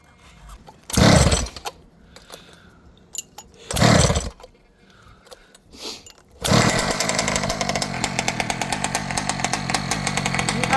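ALX 71cc gas engine popping in a few short bursts as it is pull-started, then catching and running steadily with a rapid, buzzing chainsaw-like chatter, loud and close.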